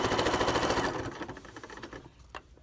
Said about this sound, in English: And then I just sew, I'll back stitch.